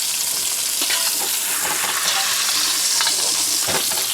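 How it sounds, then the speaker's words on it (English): A pot roast sears in a hot pan with a loud, steady, hissing sizzle close up, broken by a few sharper crackles and spits, and no one speaking. "And our roast is nicely seared. I want to get the bottom really seared so I can flip it over."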